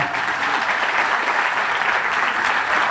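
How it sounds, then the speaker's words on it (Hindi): An audience at a motivational talk claps steadily in a dense, continuous burst that holds at an even level throughout, with no voices over it. "बजाओ ताली"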